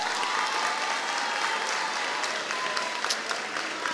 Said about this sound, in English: give your village a round of applause